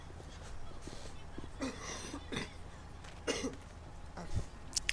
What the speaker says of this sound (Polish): Sorry jeszcze raz za ten kaszel, ale męczy mnie.